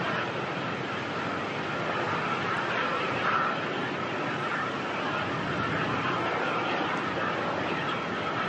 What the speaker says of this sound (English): Another heavy arrival, A330-900 of Malaysia coming on